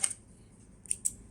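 Scissors snip through serger thread while threading a Babylock serger: a faint crisp cut near the start, then two quick sharp snips close together about a second later, over a quiet room hush.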